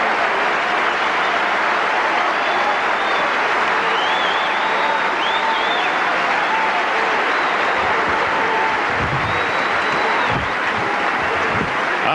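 A 23,000-strong tennis crowd at the 2000 US Open men's final in New York, applauding Pete Sampras and Marat Safin with a steady, dense roar of clapping that rolls on throughout, with faint calls and crowd murmur mixed in.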